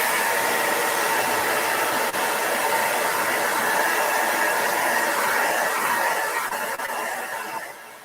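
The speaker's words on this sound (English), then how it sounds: "I guess since I'm doing blow dryer, I can blow dry the background too" A blow dryer runs steadily while drying a Halloween-themed painting, a loud continuous whooshing hiss close by that holds for several seconds before tapering off near the end.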